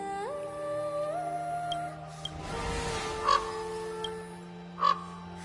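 A crow caws twice in Honkai: Star Rail, two sharp, fairly close calls spaced over a quiet, tonal game backdrop.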